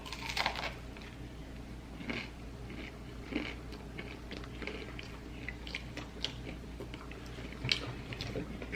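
Crunchy bites and steady chewing of a fried Oreo cookie, close to the mouth, with repeated crisp snaps spread over several seconds and occasional soft voices in the background.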